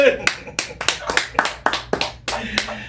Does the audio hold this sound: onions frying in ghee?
no